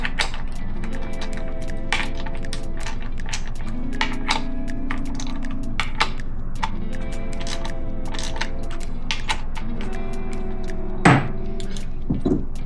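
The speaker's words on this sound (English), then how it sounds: "10mm socket and wrench. What I like to do is just go and break all of them loose." Socket wrench cracking bolts loose on a 2024 Yamaha FX Cruiser HO jet ski, heard as a string of sharp metallic clicks and clanks with tonal ringing over a steady low hum, with one loud close clank near the end.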